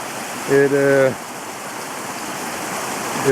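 A creek rushes past the debris of a washed-out bridge, a steady broadband wash of flowing water close by, with a short burst of a voice near the start.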